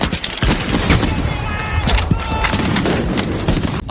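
Dense, loud gunfire fills a battle scene from the World War II film Saving Private Ryan, with overlapping rifle and machine-gun bursts and booms running continuously and close.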